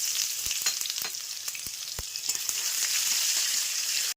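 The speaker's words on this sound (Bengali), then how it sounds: "পেঁয়াজটাকে ভাজতে দিয়ে দেবো।" Sliced onion frying in hot oil with whole cumin seeds, a steady close sizzle with scattered crackles and small pops throughout, no voices.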